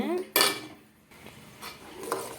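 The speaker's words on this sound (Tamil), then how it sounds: "சீனி போட்டு நல்லா கிண்டுறோம்" A spoon stirs milk with sugar in a pot, producing sharp metallic clinks and scrapes against the pot between quieter stretches.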